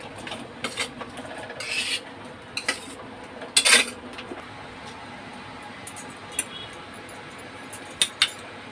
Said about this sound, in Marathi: आता कापलेली कैरी आपण साखरेच्या पाकात घालणार आहोत